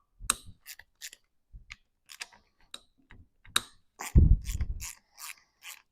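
Scattered metallic clicks, taps and a brief scraping rasp come from pulling the tensioner off a Classic Mini engine during a strip-down, close and fairly quiet with pauses between the sounds.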